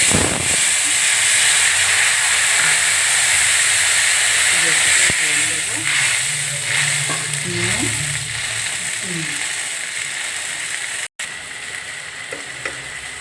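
Five-spice seeds and tamarind added to hot oil give a loud, continuous close sizzle and hiss, while a person talks over it in the middle.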